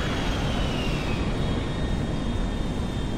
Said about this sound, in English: The plane just landed.